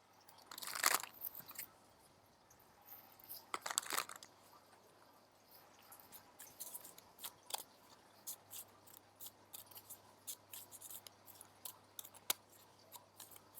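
Quiet, close shuffling of cards: a couple of brisk papery riffles followed by scattered light flicks and snaps, with no talking.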